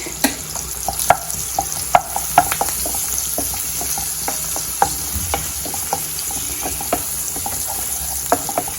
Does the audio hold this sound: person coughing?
no